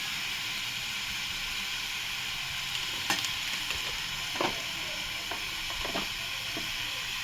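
Ground spices including turmeric being stirred into potato and cauliflower frying in a pan, a steady soft sizzle with a few scattered scraping clicks of the spoon, close and continuous, no voices.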